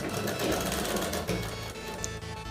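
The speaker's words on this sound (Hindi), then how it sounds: "पाइपिंग के बिल्कुल किनारे किनारे यहाँ पर सिलाई चलानी।" A sewing machine runs steadily, stitching along the piping edge of a boat neck blouse, a close continuous whirring drone with no talk over it.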